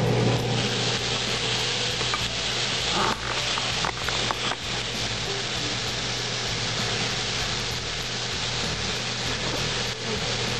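Low-carb fried rice, with soy sauce just added, sizzles steadily in a hot pan, a continuous close hiss with faint stirring scrapes throughout.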